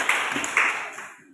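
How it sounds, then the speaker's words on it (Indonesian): A classroom group claps in a short, dense burst that swells twice and then quickly dies away. "tepuk tangan dulu untuk kelompok 2"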